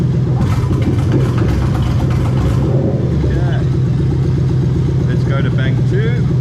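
A Lexus UZ-FE V8 idles steadily and then turns rough and uneven while its VVT-i control is switched on for bank 1, up close under talking.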